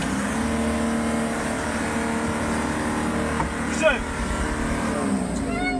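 A pickup truck engine labours and strains off-road as it bogs down in a hollow, a loud continuous drone with rising tonal sweeps under talk.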